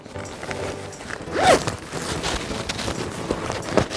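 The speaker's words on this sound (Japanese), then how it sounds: "あと内側に チャックがついている、" A zipper on the inner pocket of a backpack is pulled open in one quick, close, crisp rasp, surrounded by light handling rustles and soft bumps.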